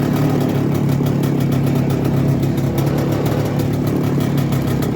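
Soviet Muravei TMZ-5 scooter engine runs steadily at close range, a continuous loud buzzing drone with a fast, even pulse and no talk.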